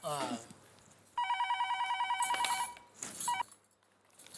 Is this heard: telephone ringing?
yes